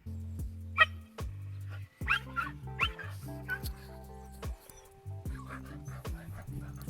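Two dogs barking and whimpering close by, with a string of deep barks, higher yips and whines in uneven bursts separated by brief pauses.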